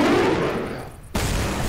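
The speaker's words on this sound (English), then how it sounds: "Assault rifle." Assault rifle fire in the video game Left 4 Dead 2: a loud burst that fades into a brief gap, then another sharp blast cuts in and carries on with a rough roar.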